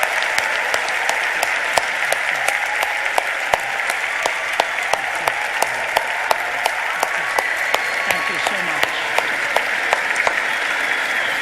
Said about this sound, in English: give Dr. Ravi Zacharias and Vince Vitale some applause